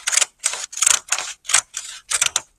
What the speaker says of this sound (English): you're going to use decorative scissors